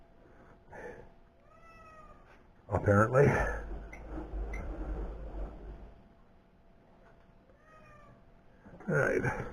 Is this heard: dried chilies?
no